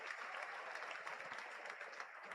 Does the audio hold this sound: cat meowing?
no